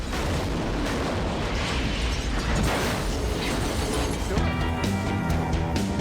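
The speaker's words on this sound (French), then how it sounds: "Est-ce qu'on peut faire exploser un réservoir en tirant dessus?" A car's fuel tank is shot at a firing range and explodes: a loud, sustained roaring blast fills the scene, then gives way to a steadier tonal ringing near the end.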